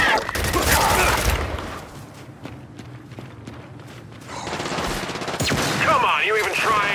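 Dense gunfire from a Gears 5 Horde match: loud, continuous volleys at the start, a quieter stretch of scattered shots, then heavy firing again near the end.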